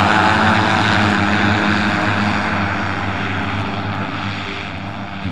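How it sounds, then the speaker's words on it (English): Govy AirJet electric flying vehicle, a Canadian eVTOL, in flight with a loud steady propeller drone and rotor hum, fading slightly as it passes, no voices. "The Govy AirJet from Canada is a premium electric flying vehicle designed for urban mobility and private use."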